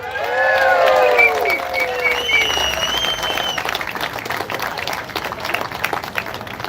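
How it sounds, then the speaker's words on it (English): A crowd at a live gathering cheers and applauds, with shrill whistles and whoops rising over a dense wash of clapping that then settles into steady applause. "Give them a big cheer."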